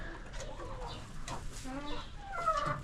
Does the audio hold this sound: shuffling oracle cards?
no